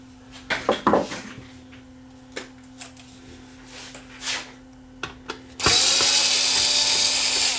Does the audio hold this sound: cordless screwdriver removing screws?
yes